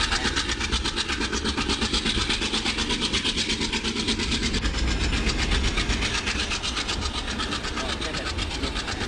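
The Shramjevi Express runs on rails in the MSTS train simulator, a continuous loud rumble with rhythmic clickety-clack from the wheels and steady engine drone, heard alone.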